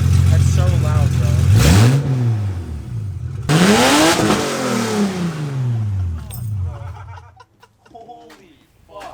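A BMW E28 fitted with headers and no exhaust revs hard twice, each blast roaring up and falling away, loud and raw, then settles into a rough idle while people talk.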